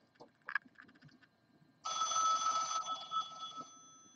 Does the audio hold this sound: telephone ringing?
yes